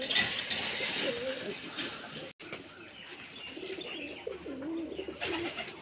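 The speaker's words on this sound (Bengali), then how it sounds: "তারপর দেখাই আমি ভালো করে কবুতরটা।" Giribaz pigeon from Rajshahi cooing in soft repeated phrases, close by, with someone talking over and around the calls.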